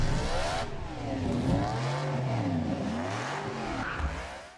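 A BRM V16 Formula 1 racing engine screams past, its high-revving pitch rising and falling in sweeping waves as it accelerates, loud and close.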